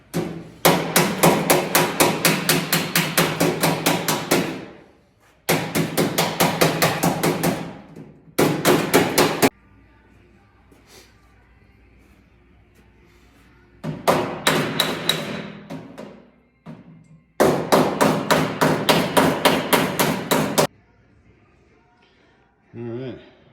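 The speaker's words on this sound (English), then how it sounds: "So we'll hammer this out nice now." Rapid metal hammer blows fold over the door skin edges on a 1972 GMC C10 door, coming in loud, close bursts of dozens of quick strikes separated by quiet pauses.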